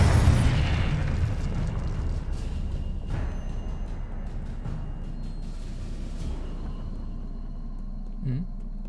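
The Confringo blasting spell in the Hogwarts Legacy video game goes off as a loud booming explosion that rumbles and slowly fades, with a smaller pop near the end.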